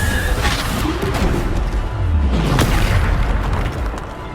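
A Descendo spell striking in Hogwarts Legacy on PS5, a loud, deep rumbling boom with a crashing burst that swells and holds for several seconds amid dense game noise.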